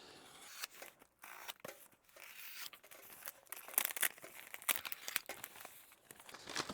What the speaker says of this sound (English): I'm going to cut the shipping label off here first